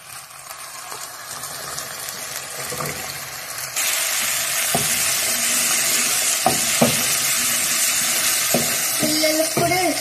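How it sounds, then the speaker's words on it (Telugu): Vegetables sizzle and fry in a pan for masala Maggi, with steady crackling that grows louder partway through, and a spoon occasionally stirring and scraping against the metal. "ఇవన్నీ బాగా ఫ్రై అవ్వాలి. అవి ఫ్రై అవుతున్నాయి."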